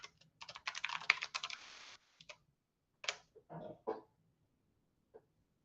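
Keys clatter on a computer keyboard in quick bursts of close, crisp taps, a dense run of typing followed by a few short, scattered clusters and one final tap in a quiet room.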